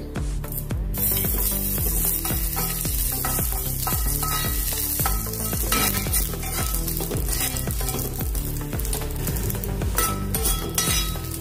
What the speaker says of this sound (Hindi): हमने कड़ी पत्ते को घी में भून लिया है।